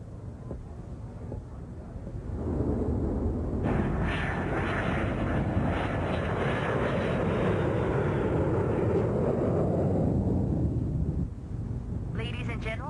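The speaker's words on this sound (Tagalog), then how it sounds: "Ladies and gentlemen, we are ready for takeoff." An airliner's engines run on the ground before takeoff, a loud continuous roar that swells after a quieter start and holds steady, with a voice speaking faintly over it.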